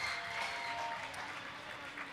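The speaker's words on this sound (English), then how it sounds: "This Northeast crowd is really into it for their team" A crowd at a Northeast Force volleyball match applauds in a steady, dense wash of clapping and cheering that holds at the same level for the full length, with no talk on top.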